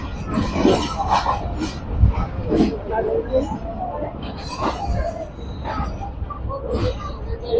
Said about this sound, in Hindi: वही ट्रेन जो पिंडदादन से वापस आई है अब लाला मूसे के लिए जा रही है